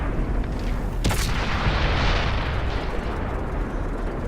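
Tank cannon firing in the video game World of Tanks, a single sharp blast followed by a loud, rumbling roar that fills the rest of the clip.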